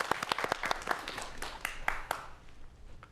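A studio audience at a Korean science talk program breaks into lively clapping, a brisk burst of many hands that gradually thins and fades over a few seconds.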